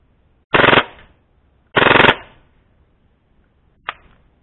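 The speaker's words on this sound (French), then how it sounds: "On va passer en automatique et on va envoyer une sale rafale." An airsoft MAC10 by HFC fires on full-auto with 0.20 g BBs at 130 PSI: two loud rapid bursts about a second apart, then a single short shot, crisp and close.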